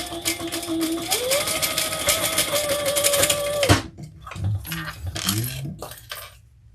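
Sewing machine stitching a crossbody bag in rapid, steady bursts that cut off abruptly partway, followed by scattered clicks and handling knocks as the machine stops.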